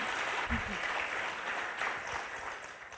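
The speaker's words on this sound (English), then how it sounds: "A bit of an applause, please." Brief round of audience applause for a speaker at an academic talk on measuring deceptive behaviour, moderately loud and fading toward the end.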